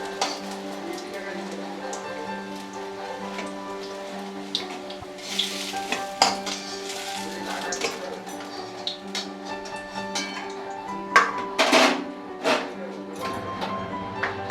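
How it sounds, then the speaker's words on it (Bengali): Grated potato pakoras frying crisp in hot oil, giving a continuous bubbling sizzle with occasional clinks and scrapes of a utensil against the pan, moderately loud and close. "এভাবে মুচমুচে করে সবগুলো ভেজে নেবো।"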